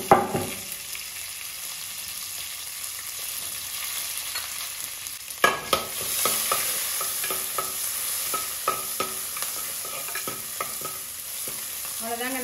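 Crushed onions with a bunch of curry leaves fry in oil for a kuppaimeni greens kadaiyal, a quiet hiss that jumps to a brighter, louder sizzle halfway through, with rapid stirring scrapes throughout and no voices.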